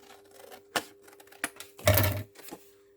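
Scissors cut through collage paper in a few sharp, separate snips, the last one longer, close to the microphone and with quiet pauses between cuts.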